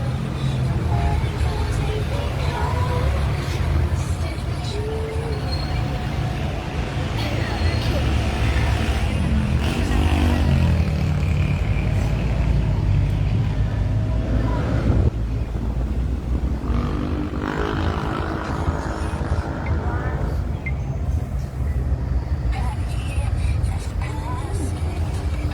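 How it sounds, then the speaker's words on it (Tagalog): Large trucks pass on a Manila road in a continuous roar of engines and road noise, with wind buffeting the microphone and people talking over it throughout. "Ang laki ng mga truck, nakakatakot."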